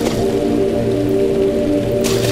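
Water splashing in Amnesia: The Dark Descent, a loud, steady wash of sloshing water under a low droning hum, with a sharper splash near the end.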